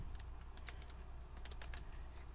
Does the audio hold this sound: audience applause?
no